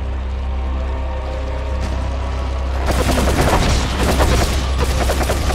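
Weapon fire in the Resident Evil 4 video game arrives as a sudden dense burst of rapid shots, loud and close, following a steady low hum. The shooting holds as a continuous barrage to the end with no speech.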